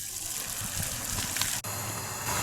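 Steady rushing spray of water from a splash pad at a park zoo, a continuous wide hiss with a brief dropout midway, with no voices over it.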